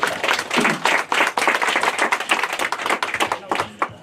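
Audience of a church Bible-community gathering clapping together, dense close handclaps in a busy uneven stream with voices mixed in.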